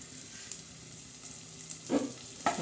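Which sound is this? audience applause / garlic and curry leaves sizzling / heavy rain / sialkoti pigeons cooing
garlic and curry leaves sizzling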